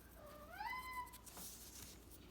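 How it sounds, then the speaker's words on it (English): A single drawn-out meow from an older cat asking for food, rising and then holding steady, fairly close, followed by a soft rustle against a quiet room background. "If you can hear that mewing, that's our older cat who's looking for food right now."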